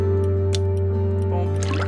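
Water is poured out in the video game Graveyard Keeper, a brief liquid splash and drip over a steady hum of game music.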